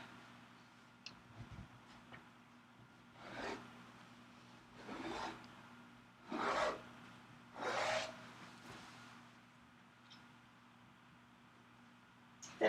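Quilting fabric is cut along a ruler with a blade in several separate strokes, each a soft, close scraping rasp lasting about a second, spaced a few seconds apart over quiet room tone.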